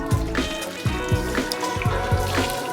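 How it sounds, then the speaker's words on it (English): Boiling water is poured into a pan of baby potatoes being cooked over charcoal, making a close, gurgling trickle with rhythmic splashy pulses throughout. "We're going to get our boiling water."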